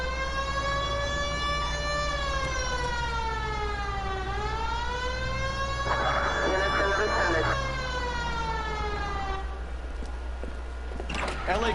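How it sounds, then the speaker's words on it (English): A police car siren in the LA Noire video game wails in rising and falling sweeps, loud and close, with a brief burst of harsher yelping in the middle and a low engine hum underneath. "Hit the siren."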